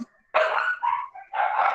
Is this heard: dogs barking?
yes